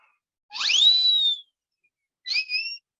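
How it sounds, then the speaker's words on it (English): A whistle is blown twice during an online chemistry class: a longer rising shrill blast, a brief pause, then a shorter second toot, loud and close with no talking. "I love that whistle."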